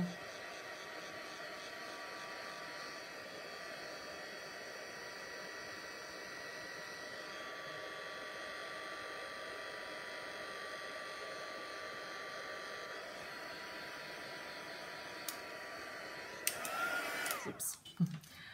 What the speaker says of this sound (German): Also durch das Trockenföhnen, finde ich, wird die Karte noch wieder ein bisschen flacher.